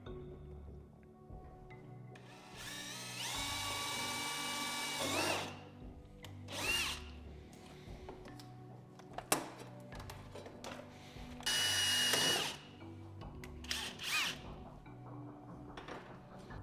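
A power drill bores out plastic clips on a Nissan 350Z rear bumper, with several loud, close whirring bursts of a few seconds each, separated by quieter pauses and faint handling noise.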